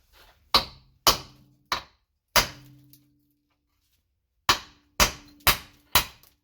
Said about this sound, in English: so we'll take these rivets out now